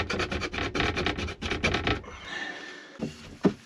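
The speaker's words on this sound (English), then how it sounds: "I'll take these stickers off first though." Stickers being peeled and scraped off car window glass, a dense run of rubbing, rasping strokes for two seconds, then quieter scraping with a short sharp scrape near the end, close up with no talking.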